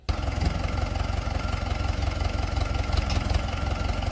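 A tractor engine idles at a village sugarcane field, a loud, steady, low chugging close by with an even mechanical pulse and no speech.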